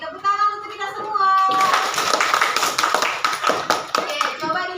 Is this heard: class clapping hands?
yes